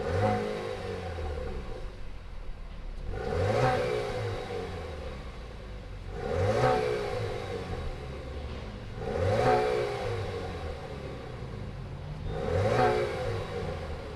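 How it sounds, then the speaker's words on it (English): A turbocharged 4-cylinder 2019 Chevrolet Camaro idles with a steady low rumble, then revs five times at regular intervals, each blip rising to a raspy peak and falling back to idle, heard close by with no talk. "Let's go ahead and fire up this turbocharged 4-cylinder Camaro."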